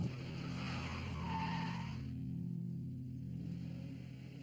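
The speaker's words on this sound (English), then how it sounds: "He hits the foot brake." A car skids under hard foot braking, a loud tire squeal over the engine that fades after about two seconds.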